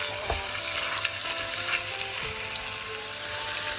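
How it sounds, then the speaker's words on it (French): Veal pieces sizzle and fry in hot ghee in a casserole, a loud, steady close crackle that runs throughout with occasional stirring scrapes and no talking. "Et je fais revenir les morceaux de veau dans le ghee."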